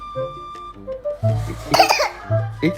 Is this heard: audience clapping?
no